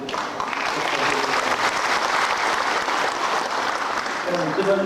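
Assembly members at a 1995 general meeting applaud to approve appointments, a continuous room-filling round of clapping, with a voice briefly audible near the end.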